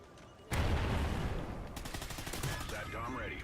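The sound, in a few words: gunfire in the video game Call of Duty: Ghosts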